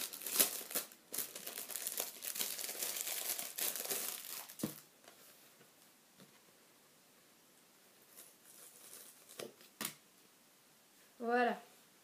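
Packaging of a Hot Toys DX06 Jack Sparrow figure being opened, with close crinkling and rustling of plastic and paper, a few sharp snaps and tears, then quieter handling, and a voice speaking briefly near the end.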